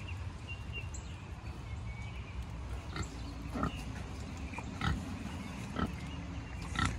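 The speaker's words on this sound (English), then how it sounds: "The pig is willing, but he doesn't like the gate." A pig being loaded through a farm gate grunts and oinks in short, intermittent bursts close to the listener, over a low steady background with faint bird chirps.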